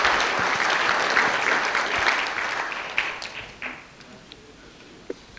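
Audience applause fills a neighborhood watch annual meeting: a dense, steady wash of many hands clapping that gradually thins and fades, leaving a few scattered claps near the end.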